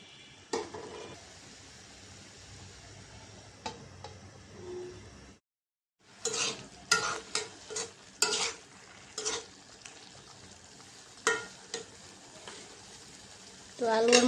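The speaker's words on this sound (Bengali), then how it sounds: "আলু আর মশলা কষানো হয়েছে" Potatoes and spices being stir-fried in a pan, heard as a steady low sizzle broken by a silent gap, then a run of sharp scraping stirs and clinks of the spatula against the pan.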